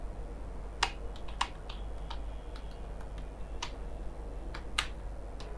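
Typing on a computer keyboard while writing a document in MS Word: sparse, separate key clicks at an uneven pace over a low steady hum, fairly quiet and close.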